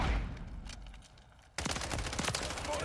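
Heavy gunfire in Call of Duty Modern Warfare III, quieter distant shots at first, then a sudden loud barrage of rapid automatic fire close by that keeps going to the end.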